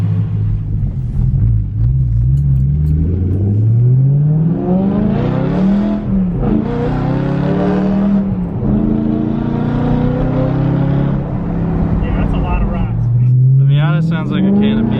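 A loud, raspy BMW E92 M3 exhaust with muffler and resonator deleted revs and drones with rising and falling pitch, continuous and close, with voices talking over it.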